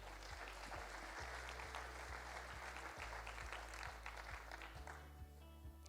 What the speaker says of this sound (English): If you give them a warm round of applause, please, folks.